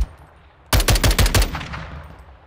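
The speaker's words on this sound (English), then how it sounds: "I'm shooting him." A short, loud burst of about six rapid gunshots at an enemy in the video game World War Z, following a quiet lead-in and trailing off into a fading echo.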